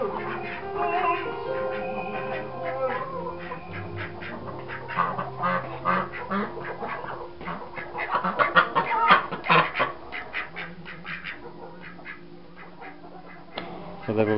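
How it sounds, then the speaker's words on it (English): Ducks arrive at a farm, quacking in a steady, busy chatter mixed with hen clucks. A person talks over the birds. "Oh, here comes some ducks. Check them out."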